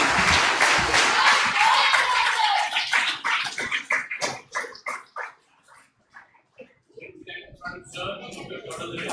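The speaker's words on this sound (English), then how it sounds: "We could hear a louder round of applause" Audience at an Anglo-Indian association annual awards ceremony breaking into loud applause that thins into scattered individual claps and fades out, then a voice resumes speaking.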